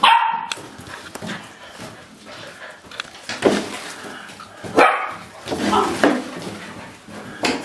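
Dogs bark in short, repeated bursts close by, with a person talking and calling out between and over the barks.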